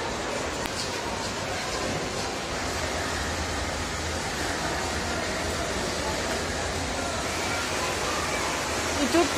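Water churns steadily in an indoor wave pool at the Dream Town water park in Kyiv, producing a continuous, even wash of surf noise with no clear breaks.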